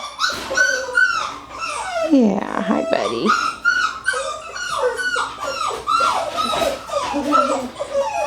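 Several 4.5-week-old puppies whimper, yip and whine in high, wavering cries throughout, with a person briefly speaking softly over them.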